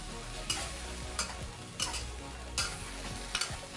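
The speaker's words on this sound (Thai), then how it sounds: "เราก็จะมาใส่ปลากระป๋องครับ ใส่ลงไปเลยนะครับ แล้วก็ผัดให้เข้ากันนะครับ" Canned fish being stir-fried in a pan for a Thai basil stir-fry, with a steady low sizzle and a few distinct scraping stirs of the spatula spaced about a second apart; no voices.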